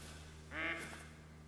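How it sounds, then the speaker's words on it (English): A duck in the hunting game theHunter: Call of the Wild gives a single short, quiet quack in an otherwise calm outdoor scene. "Shut up, duck."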